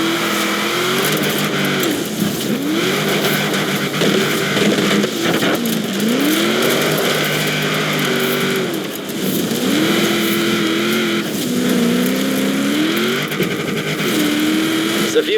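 A car engine drones and revs in Forza Horizon 4, rising and falling in pitch as it shifts through gears on the road, loud and close under occasional talk.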